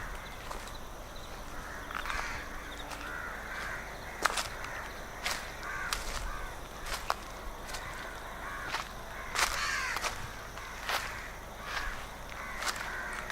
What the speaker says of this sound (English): the sun will rise after 2 hours, the birds are crying